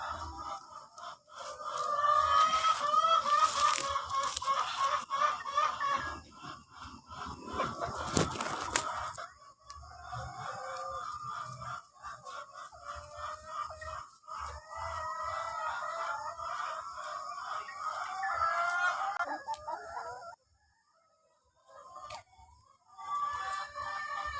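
Chickens cluck continuously in a home yard while a rooster crows loudly, close by, for most of the stretch. The clucking and crowing stay fairly dense before briefly dropping away near the end.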